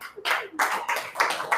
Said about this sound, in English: Stand up and clap for our governor.